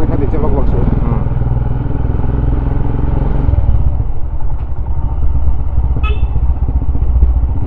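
A scooter engine hums steadily while riding along a road in Mizoram, northeast India, with wind and road rumble, a light clatter and a brief horn-like tone, while people talk over it throughout.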